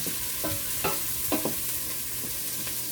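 Garlic and ginger sizzle and fry in a pan for a pot of collard greens with smoked turkey, with a steady loud crackle broken by a few scraping stirs.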